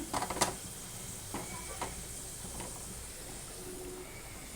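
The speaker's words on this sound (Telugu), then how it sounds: "కుక్కర్ మూత తీసి పప్పులో ఈ తాలింపు వేసేద్దాం" A soft, steady sizzle as hot tempering is poured into cooked lentils in a pressure cooker, after a few quick clicks and knocks at the start, fairly quiet throughout.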